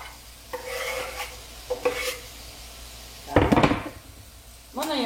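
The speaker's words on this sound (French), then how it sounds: "dans cette poêle-là, je vais mettre mon oignon que j'ai haché tantôt." Chopped white onion going into a frying pan for a chicken and broccoli divan, with loud bursts of sizzling and stirring scrapes between quieter gaps, close up, with no talking.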